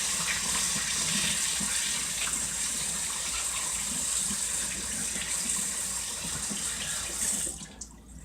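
Kitchen tap water gushing steadily over a freshly caught reservoir fish as it is rinsed, a loud continuous splashing stream that cuts off near the end.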